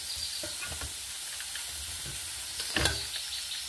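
Grated pumpkin roasts in ghee in a pan for sweet pumpkin halwa, giving a steady soft sizzle with a few scraping stirs and one louder clink near the end.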